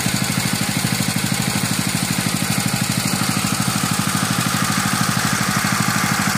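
A highbanker's water pump engine idles at a gold mine with a fast, even, chugging rhythm, loud and close, running steadily with no other sounds over it.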